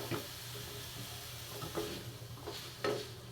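Ground meat sautéing in a pan for Filipino giniling na menudo, a steady close sizzle with a few stirring scrapes and clinks, with no talking.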